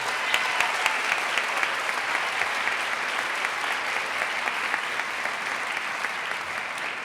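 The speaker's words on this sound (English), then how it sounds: "Let's give her a round of applause." Audience at a youth awards ceremony clapping steadily, a dense even wash of many hands that holds at a constant level for several seconds, with no voices standing out.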